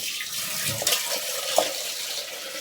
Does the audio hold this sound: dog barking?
no